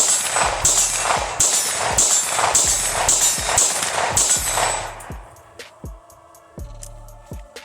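Pistol shots fired at a target while testing a Cyelee Bull Pro red-dot optic, a rapid string of about a dozen sharp, loud reports in quick rhythm, then a few slower, more spaced shots with ringing echoes.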